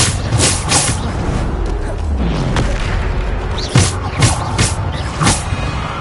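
Bombarda spell explosions from Hogwarts Legacy, a series of loud booming blasts and thuds spread across a busy battle soundscape, with sharp bursts recurring every half second or so near the end.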